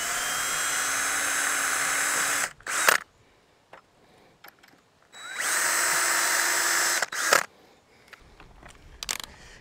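A power drill with a self-centering bit whines in two long bursts of several seconds each while starting holes for a gate hinge, separated by clicks and brief pauses, loud and close.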